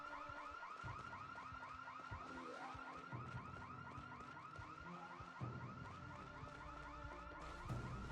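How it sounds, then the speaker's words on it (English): A house alarm in a video game rings on and on, a looping electronic whooping wail with rapid warbling pulses. It is steady and fairly prominent, with low background rumbles beneath. "Triggering that house alarm freed up my car."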